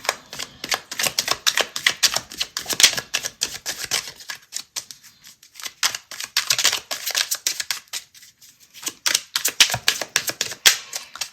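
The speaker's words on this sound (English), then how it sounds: "Let's take two astrology cards from this deck." Astrology cards pulled from a deck during a zodiac reading, with a long run of close, crisp paper flicks and snaps in quick irregular bursts, quieter stretches between them, and no talking.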